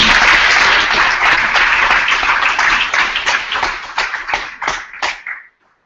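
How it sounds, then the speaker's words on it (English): An audience at a world congress general assembly applauds, a loud, dense burst of clapping that thins into scattered individual claps before stopping abruptly. "let's give a round of applause."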